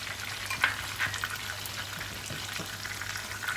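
Chopped garlic and ginger fry gently in oil, giving a faint, even sizzle with scattered small pops and crackles.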